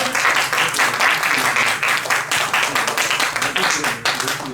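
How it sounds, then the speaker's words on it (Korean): Warm audience applause greets two school teachers, a counselor and a health teacher, as they step up for a Friday life lecture. Dense, steady clapping fills the room and holds loud and close throughout. "뜨거운 박수로 환영해 주시기 바랍니다"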